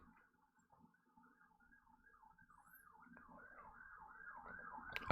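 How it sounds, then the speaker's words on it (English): A wailing siren rises and falls repeatedly in the distance, faint at first and gradually growing louder as it approaches. "Sirens on my end."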